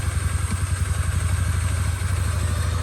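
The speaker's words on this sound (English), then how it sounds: "We have a million air leaks that you can hear from all over the place" A rebuilt stolen car's engine runs at a loud, rough idle close by, its steady pulsing throb mixed with a broad hiss from many air leaks around the engine bay.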